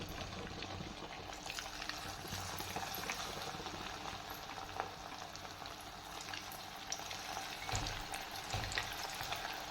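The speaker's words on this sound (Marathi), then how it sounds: "छान कुरकुरीत होईपर्यंत आपण आता पीस तळून घेणार आहोत" Chicken pieces deep frying in hot oil for chicken 65 give a steady, dense sizzle and bubbling crackle that continues without pause. No one speaks.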